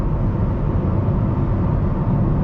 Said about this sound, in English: Just a little bit of wind noise.